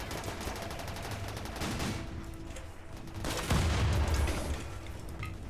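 Rapid bursts of gunfire in the RimWorld video game, a dense volley of repeated shots that swells and fades, with a heavier low rumble joining partway through and no talking.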